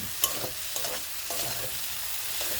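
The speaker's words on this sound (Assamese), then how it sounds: "মই ফ্ৰাই কৰি থোৱা আলুখিনি এতিয়া এড কৰিলোঁ মছলাখিনিত।" Fried potatoes stirred into hot spice masala in a pan sizzle steadily up close, with a few sharper scrapes and clicks of the spoon over the constant frying hiss.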